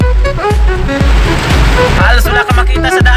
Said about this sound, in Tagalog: dahil sa sobrang lakas na ng buhos nga ng ulan